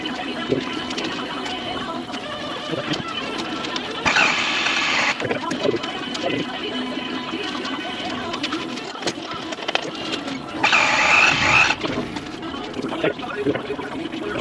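A hydrolocked 6.0 Powerstroke diesel engine cranking in two short bursts of about a second each to build oil pressure, whirring starter noise rising over a quiet background hum, with pauses between.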